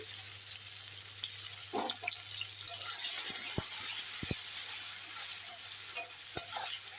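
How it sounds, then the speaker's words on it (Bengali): Onion and garlic sizzle quietly in hot oil for chicken curry with a steady hiss, broken by occasional utensil knocks and stirring sounds. "রসুন ভেজে নিচ্ছি পেঁয়াজ দেখো ভাজা হয়ে গেছে"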